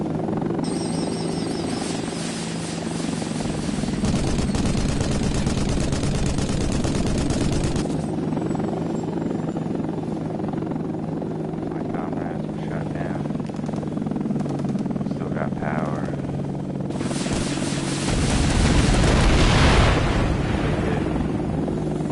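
A Hind attack helicopter in the video game Air Missions: Hind throbs with a steady, loud rotor drone throughout, swelling near the end, with bursts of gunfire and someone talking over it.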